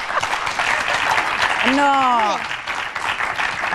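A studio audience at a Romanian children's TV show claps in a dense burst while a voice exclaims and talks over it, with a brief sliding whistle-like tone in the middle.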